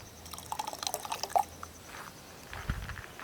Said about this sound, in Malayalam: ആ ഒരു മിക്സീൻ്റെ ജാറ് കഴുകിയ വെള്ളം കുറച്ച് ഒഴിച്ചു കൊടുക്കണേ